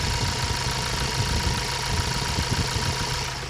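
A wrecked Ford Transit Luton van engine idles steadily, a close, even diesel rumble with a fine mechanical knock running throughout, and no talk over it.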